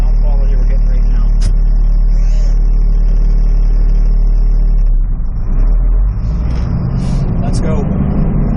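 GMC Topkick hooklift truck engine running, heard from inside the cab as a steady, heavy low idle drone, with rougher rumbling and movement noise building after about five seconds.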